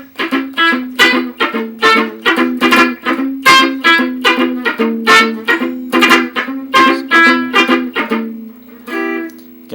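Palm-muted guitar strums the intro of a song, a quick run of short, choppy, damped chord hits in steady rhythm, close and fairly loud, with one ringing chord at the end.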